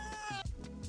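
Video game cat from Catz 5 meowing: a single drawn-out, tonal meow followed by short, quieter mewing chirps, close and clear with no talk.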